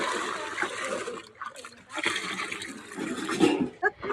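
Water splashing and trickling as it is filled for washing a pile of dishes on a terrace, uneven bursts with short gaps, with a voice talking over it.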